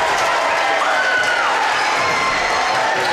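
A basketball crowd cheers and roars after a dunk, a loud and dense wash of voices that keeps going the whole time, with an announcer calling the game over it.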